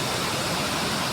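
The Cachoeira do Urubu waterfall in Primavera, Pernambuco, gives a steady, dense rush of falling water, close and constant, with no voices.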